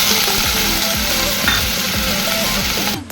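Whole onions frying loudly in hot oil with bay leaf, cardamom, cloves and cumin, a dense continuous sizzle with rhythmic spoon scrapes, close up, ending with a brief clatter.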